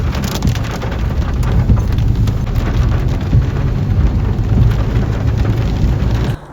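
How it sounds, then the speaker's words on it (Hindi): Heavy rain pounds down steadily and loudly in a dense, unbroken roar, cutting off abruptly at the very end. "आप लोगों को शायद आइडिया नहीं हो रहा कितनी तेज़ बारिश हो रही थी"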